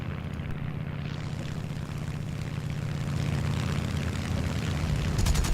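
A Mitsubishi A6M5 Zero fighter's propeller engine drones steadily in a flight combat game, a loud continuous rumble that swells slightly toward the end with a faint high rattle at the close.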